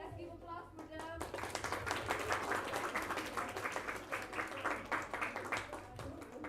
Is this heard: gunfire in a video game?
no